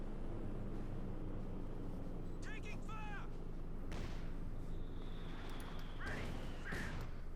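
Mortar rounds and Scott artillery firing in Company of Heroes 2, with booming bursts and crackling impacts over a constant low rumble of battle, plus a few short chirping game sounds.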